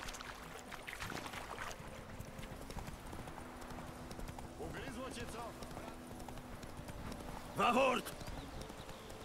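Horse Roach in the video game The Witcher 3, hooves clip-clopping in a steady galloping rhythm throughout, close and fairly loud, with people talking over it.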